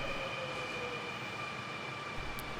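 A Seoul subway train carrying morning commuters runs with a steady mechanical drone and faint tonal whine, continuous and moderately quiet, with a brief high squeal near the end and no talk.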